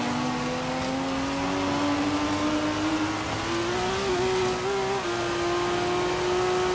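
BMW M4 GTS in the racing game Forza Horizon 3, its engine droning and revving steadily upward in a continuous loud tone with no voices.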